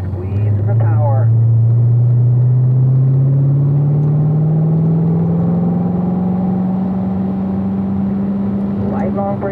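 Car accelerating through a corner on a wet race track in the rain, the engine note climbing steadily and loud throughout, with a few faint ticks and no talk.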